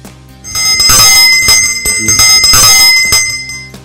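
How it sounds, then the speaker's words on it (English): Bells from a collection gathered around the world, rung in a loud, bright run of repeated metallic strikes with long ringing overtones, close and alone without voices. "A unique collection of bells from around the world"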